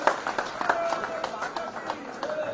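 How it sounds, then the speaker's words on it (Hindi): Audience applause at a BJP foundation day political event, with a crowd clapping in a brisk, uneven patter that stays moderately loud across the stretch, mixed with some background voices. "अब हम उन सब के लिए एक बार जोरदार ताली बजाकर उनका अभिनंदन करें"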